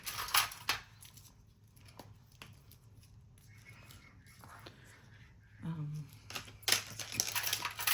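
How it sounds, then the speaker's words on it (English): Old, not very sharp scissors snip through paper in a few scattered crisp cuts, close and fairly quiet, with soft rustling and handling noises between them. "These aren't the sharpest of my scissors"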